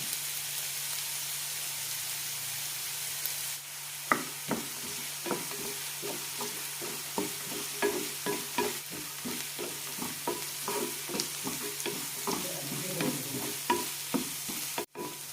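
Onions with a pinch of salt sautéing in a pan for maize (cholam) rava upma: a steady low sizzle broken by regular scraping stirs that come close and clear, with no talking.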